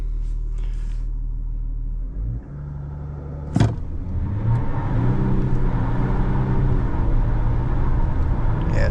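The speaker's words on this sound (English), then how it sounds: "I might as well do a couple of 0 to 100 runs for you" A 2024 Volkswagen Amarok TDI600 V6 diesel pickup launches hard on a damp surface with traction control off, a loud engine roar rising after a sharp thump and building steadily as the wheels spin, heard from inside the cab.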